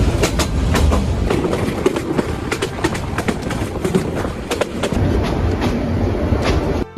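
Haor Express passenger train running on tracks between Mymensingh and Dhaka, with a loud, steady rumble and a continuous rhythmic clickety-clack of the wheels heard close up for the whole stretch.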